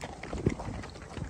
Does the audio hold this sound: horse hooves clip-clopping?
yes